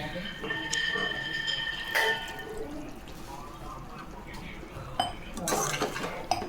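Faint scraping and clinking of a spoon against a metal pot as prawn egg curry is stirred, with occasional sharper taps.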